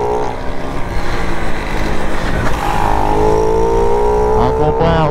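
A Honda Pop 110 motorcycle with no mirror and no air filter revs loudly close by, its engine droning steadily and then climbing in pitch near the end, with a voice speaking over it.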